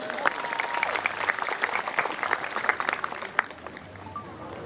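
An audience at a religious lecture claps steadily, the applause dense and continuous with a few sharper claps standing out, tapering slightly toward the end.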